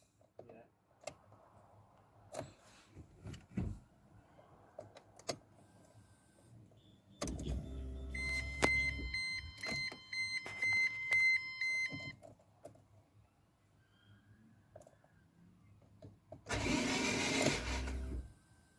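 Rover 45 with a K-series engine cranking over on the starter after an oil pump change, a steady mechanical whirring burst mid-clip and another near the end, with clicks and people talking around it.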